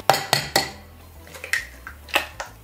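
Eggs are cracked against a bowl for flourless crêpe batter, giving a few sharp, close taps and clinks on the dish with short pauses between them, and no voices.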